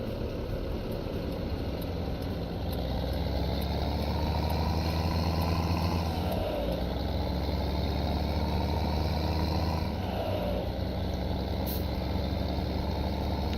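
A tractor engine in a farming video game runs as a steady, loud, low rumble throughout, with two brief shifts in pitch partway through.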